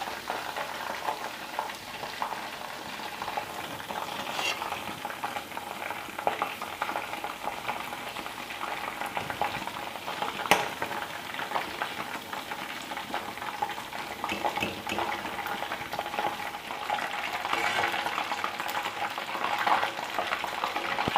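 Green kebab pieces frying in hot oil in a pan, a steady dense sizzle and crackle that runs the whole time with small bubbling bursts, close and fairly loud, no talking.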